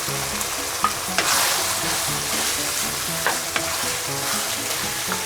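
Sheep tripe (ojri) frying in a pan gives a steady close sizzle, broken by a few sharp stirring clatters and scrapes, with background music or faint tones underneath.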